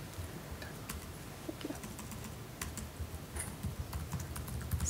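Quiet, rapid clicking of someone typing on a computer keyboard during a live cloud demo, irregular bursts of key taps with no talking.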